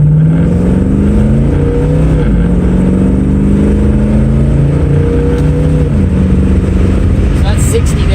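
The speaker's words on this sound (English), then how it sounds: "So I'll just do you a run up here from stop." A 1963 Ford Falcon with a modified C4 three-speed column shift pulls away from a stop. The engine roars loud and close from inside the car, climbing through the gears with audible shift changes, and a voice speaks faintly over it.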